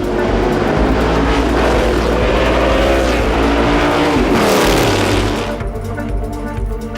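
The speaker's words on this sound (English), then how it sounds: "I drive this McLaren M6 from 1967" A 1967 McLaren M6 Can-Am race car at Laguna roars loudly and continuously at high revs, and its pitch swings as it sweeps close past before the engine note fades slightly.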